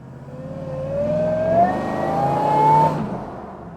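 A supercharged Nissan Patrol Y62 engine accelerates through the gears, a rising whine climbing in pitch, dropping at a shift, then climbing again before cutting off, heard from inside at steady moderate loudness.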